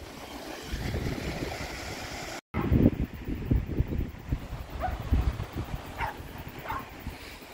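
Ocean waves wash onto a shore as a steady, moderately loud rushing surf, with faint dog sounds and light movement nearby.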